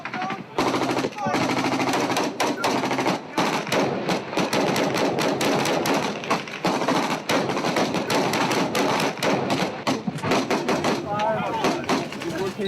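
Heavy gunfire and supporting fire in a war zone: loud, dense bursts of automatic weapons fire that run almost without a break, with shouting voices mixed in.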